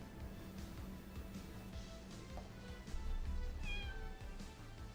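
A cat meows several times in the point-and-click adventure game Chaos on Deponia, soft, drawn-out calls over a quiet background of game music, with no speech.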